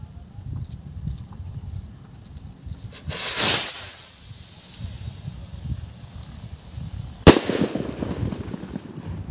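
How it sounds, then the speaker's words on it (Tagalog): Two sharp bangs of homemade firecrackers several seconds apart, the first a hissing burst and the second a crisp crack, set against faint outdoor background noise. "Medyo humina yung putok."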